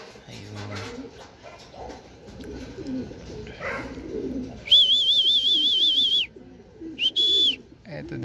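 Racing pigeons arriving after a 148 km training flight in Urdaneta, Pangasinan coo faintly among background noise, while a warbling electronic beep sounds loudly twice.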